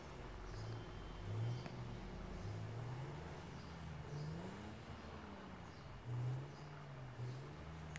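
A car in the driving game GTA 5 cruises with a steady engine hum, swelling briefly as it revs and easing off in between, fairly quiet and continuous with no talking.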